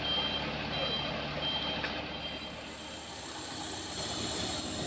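A Colt Diesel expedition truck's reversing beeper sounds in steady repeated pulses over a low diesel engine rumble, fairly near, with traffic droning in the background.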